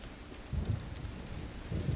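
Soft, steady rain falls in The Witcher 3, a faint hiss with low rumbling swells underneath, no voices.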